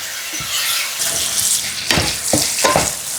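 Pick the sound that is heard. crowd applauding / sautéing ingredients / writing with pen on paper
sautéing ingredients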